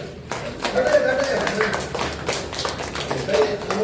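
Audience applause for Nelson at a gathering: a lively spread of claps rising and falling for several seconds, fairly close, with voices talking over it.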